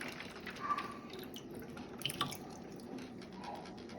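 Water drips from the cold metal faceplate of a clothes iron just lifted out of water: a few soft, scattered drips over a faint, quiet background, with no talking.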